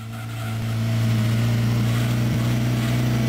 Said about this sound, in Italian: allora va fatto sentire il motore, ora è il momento da fare la gara